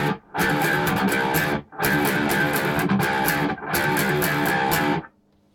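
Electric guitar playing a break from a song: thick, distorted chords ring out in three sustained bursts separated by short gaps, then cut off into near silence.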